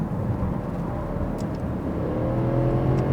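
Genesis G90 sedan accelerating and running up through the gears, a steady low engine and road drone from inside the cabin, close and continuous with no talk.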